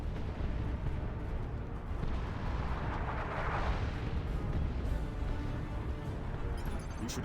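An artillery strike in Dawn of War 2 rumbles with dense, continuous booming and explosions, a heavy low roar that swells in the middle and stays loud throughout.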